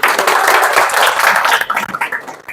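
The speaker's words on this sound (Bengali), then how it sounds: "আমরা সবাই একটু কষ্ট করে হাততালি দিয়ে ওনাকে একটু উৎসাহ দিয়ে দিই" A dense burst of loud, close hand clapping from a small group of people, applauding a man as he is handed a free bike, steady and continuous before thinning out toward the end.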